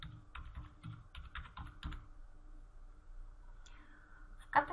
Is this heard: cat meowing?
no